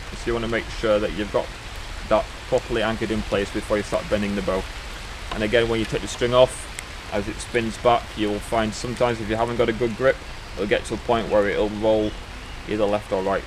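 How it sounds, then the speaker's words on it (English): Outdoor rain hisses steadily in the background while someone talks continuously over it. "I do apologise for the rain. It is raining."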